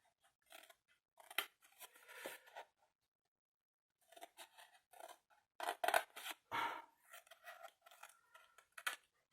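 Small scissors snip and trim the glue tabs of a mini cardboard storage unit, in quick, crisp bursts of cuts with a pause partway, close and fairly faint with rustling paper.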